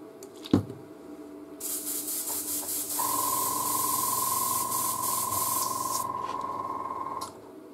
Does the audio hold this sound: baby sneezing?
no